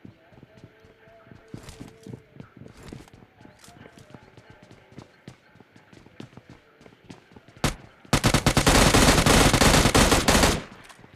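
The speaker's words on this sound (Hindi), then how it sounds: "इस बंदे को भाई M16 से भर के देखो" M16 rifle fire in the mobile game PUBG Mobile Lite: after scattered footsteps and soft clicks, a loud rapid burst of automatic shots near the end lasts a couple of seconds, with a voice talking in places.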